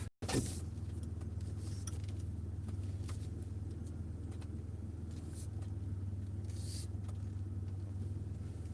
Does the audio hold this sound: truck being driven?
yes